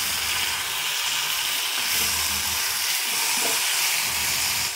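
Chopped tomatoes hitting softened onions in a hot frying pan, producing a steady loud sizzle and hiss with some stirring scrapes, close up and without talk.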